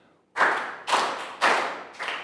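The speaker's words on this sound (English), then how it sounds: "And to finish, 3 claps." A school class claps in unison, four sharp group claps in an even rhythm roughly half a second apart, loud and close with no talking.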